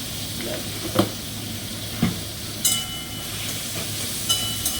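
A pan of salted tomatoes sizzles steadily with a few sharp scrapes and knocks from stirring, spaced about a second apart.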